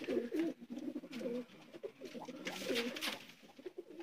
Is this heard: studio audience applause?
no